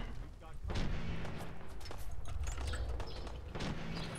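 Minigun firing in the video game Fallout 4, a dense continuous rattle of rapid shots with booming impacts, under someone talking.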